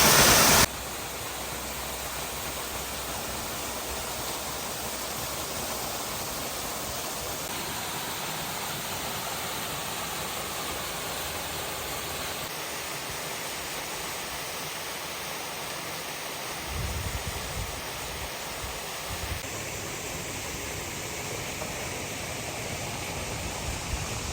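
Ahmet Kaya waterfall flowing outdoors, a steady broadband rush of falling water that holds constant and loud for the whole stretch, with no voices over it.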